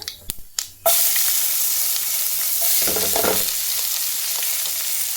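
Chopped ash gourd dropped into hot mustard oil with mustard seeds tempering: a few sharp clatters, then a sudden loud, steady sizzle of frying that holds for several seconds, with faint stirring scrapes.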